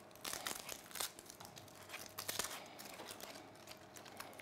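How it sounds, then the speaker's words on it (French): Shallots being peeled by hand in a kitchen, with close, irregular crinkling and tearing of dry papery skins in quick bursts. "on va éplucher les échalotes"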